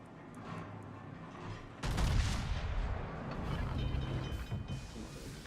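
Naval artillery salvos in the World of Warships video game: a heavy broadband boom of guns firing at once, followed by a sustained rumbling roar of the salvo and battle noise, loud and dense with no talk over it.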